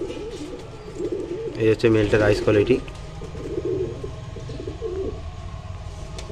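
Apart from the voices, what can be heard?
male pigeon cooing in a loft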